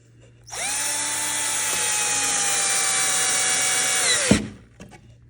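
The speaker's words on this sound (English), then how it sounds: "I'm going to insert my pocket screws, see how this goes." Power drill driving pocket screws into wood, one continuous loud whine lasting about four seconds that winds down abruptly as the screw seats, close by.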